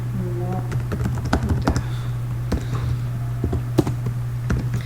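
Rapid, irregular clicking of a computer keyboard as a word is typed, close and fairly clear, with a steady electrical hum running underneath throughout.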